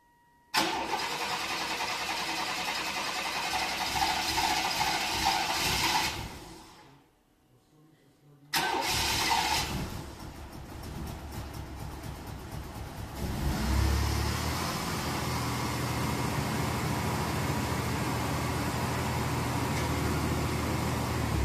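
A 1991 GMC Typhoon with a 4.3 V6 turbo engine cranks and runs, cuts out briefly, then fires again and settles into a steady, rumbling idle close by.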